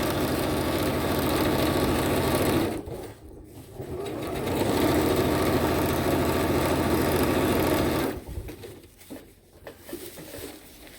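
Sewing machine stitching the final seam of a DIY underquilt's baffles, a loud, close, rapid mechanical whirr that runs steadily, pauses briefly, resumes, then stops and leaves a quieter hum.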